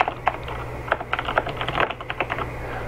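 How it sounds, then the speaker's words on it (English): Rapid typing on a computer keyboard, a close, loud run of irregular key clicks and taps with brief pauses, alone without speech. "I'm just typing this additionally so that you can see what's going on."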